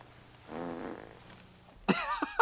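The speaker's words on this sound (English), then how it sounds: "you just hear him fart" A comedic fart from a character in the 1992 film Psycho Pike, a short buzzing rasp followed by a few louder squeaky, voice-like bursts against a quiet background.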